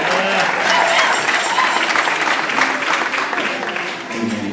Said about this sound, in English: Let's clap our hands for our babies.